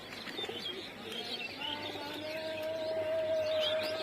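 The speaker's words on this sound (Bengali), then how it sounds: "এই যে এখানে পাক খাচ্ছে কবুতরগুলো" Pigeons circle over their home loft, giving faint, scattered chirps and soft coos that drift through a quiet outdoor space.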